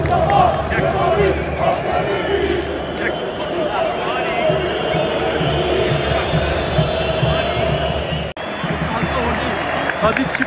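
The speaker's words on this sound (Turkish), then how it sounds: "Alkışlar Tadiç'e" A stadium crowd at a football match applauds and cheers for Tadić, a dense continuous roar of clapping and voices, with a commentator's voice speaking over it.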